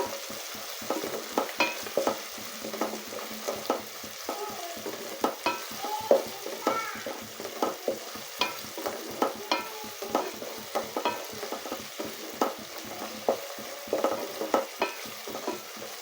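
Cashews fry in a pan for a chicken curry, giving a soft sizzle broken by quick, rhythmic stirring scrapes and taps that repeat steadily throughout, with no voices.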